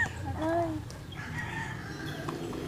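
Backyard chickens in a Rizal Province garden, with a rooster crowing briefly and hens clucking at moderate distance amid ambient outdoor noise.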